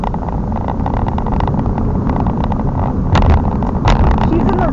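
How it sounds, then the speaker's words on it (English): Inside a car on the freeway, a constant loud rumble of road and traffic noise fills the cabin, with a few louder swells as vehicles pass and people talking over it. "I hear traffic."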